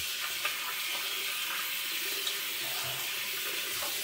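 Water runs steadily from a tap while shaving lather is worked up with Arko soap, a continuous, even splashing rush that holds at a constant level with no pauses.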